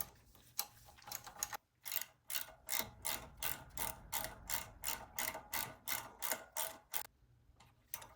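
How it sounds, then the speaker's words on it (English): A ratchet wrench tightens carburetor bolts on a Wheel Horse 520Lxi garden tractor, giving a long run of quick, regular clicking strokes, close and fairly loud, with no talk over it. "Now we'll take our ratchet here, drop it on the floor. We're going to tighten this all back together."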